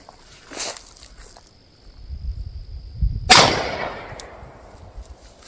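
A single sharp, loud shot from a Sig Sauer P226 Mk25 pistol cracks out mid-clip and trails into a fading reverberant tail, preceded by quieter shuffling and a thin, steady ringing tone.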